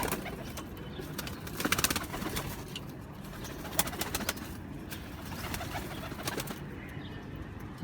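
Pigeons of a bred fancy strain coo repeatedly close by, soft throaty calls over a busy background with occasional wing flutters and chirps.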